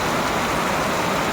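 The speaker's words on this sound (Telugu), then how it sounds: "పిచ్చ కొట్టుడు వర్షం మామూలు కొట్టుడు కాదు" Heavy rain pours down in a dense, steady wash of noise, loud and continuous over a brief moment, with no voices.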